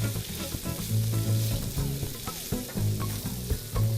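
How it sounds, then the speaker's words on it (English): Shrimp and bacon for shrimp and grits fry in a pan with a loud, continuous sizzle and stirring scrapes, over a low steady tonal hum in the background. "we're gonna add back into our pan our shrimp and our bacon"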